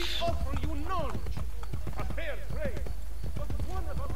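Horse hooves clip-clopping in Assassin's Creed Brotherhood, a quick steady beat of hoofbeats running beneath someone talking over most of the stretch.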